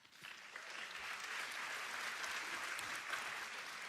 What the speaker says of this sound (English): so we have to clap for them